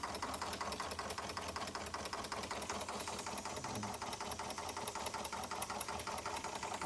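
Doll 362 twin cylinder model steam engine running on original spirit burners, giving a rapid steady rhythmic ticking and chuffing beat with light mechanical clatter, close and continuous, no talk.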